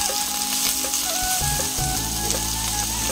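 Chopped onion and capsicum, salted, sizzle and crackle loudly in a hot pan, with a steady close-up frying hiss and a few scraping stirs, for an egg chicken roll filling.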